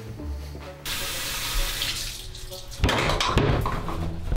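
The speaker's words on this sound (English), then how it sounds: "wash your hands." Hands are washed under a running kitchen tap. Water pours steadily into a sink and its splash changes partway through as the hands move under the stream. The sound is loud and close, with no speech.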